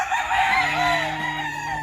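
Gamecock stags crowing on a game farm, several birds calling in overlapping, drawn-out crows that fill the clip at close to moderate distance with no talk.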